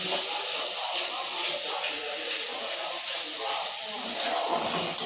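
Spices fry in oil in a pan with a steady, close hiss and sizzle that holds evenly throughout, with no break in the crackle.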